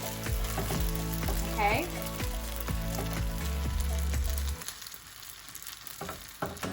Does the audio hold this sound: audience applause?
no